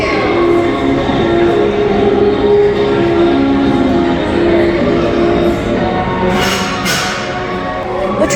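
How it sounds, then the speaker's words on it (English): A Magic Kingdom railroad train rolls into the station with a steady rumbling, clattering wash and a sustained tonal hum, growing busier near the end as brief hissing bursts rise above the crowd murmur. "The train is coming."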